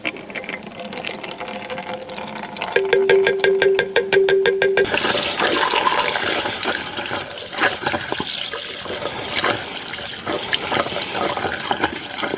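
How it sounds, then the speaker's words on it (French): Water gushes from a tap in a steady rushing stream, preceded by a brief mechanical rattling buzz, then continues loud and close until the end. "On ferme bien le robinet, sinon on va en foutre partout."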